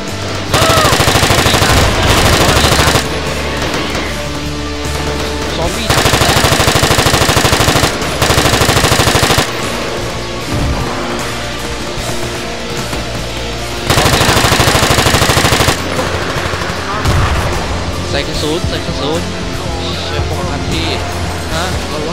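Bursts of rapid automatic machine gun fire in a Battlefield zombie game, loud and repeated in long volleys, with excited voices talking over the shooting.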